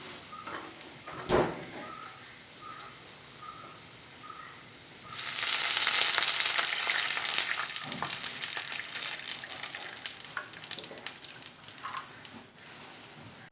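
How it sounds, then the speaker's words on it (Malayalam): Water is poured into a pan of frying chicken biryani masala made with rava, setting off a sudden loud sizzling hiss that slowly settles into softer bubbling, after a few quiet clinks. "ഇതിലേക്ക് ആവശ്യത്തിന് വെള്ളം ചേർത്ത് കൊടുക്കാം."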